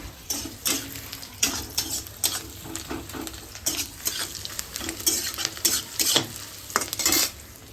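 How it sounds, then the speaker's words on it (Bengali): Onions sizzle in hot oil while a spoon repeatedly scrapes and stirs the pan in irregular bursts, close by. "আগে তেলটা দিই দিয়ে পেঁয়াজটা ভাজছি"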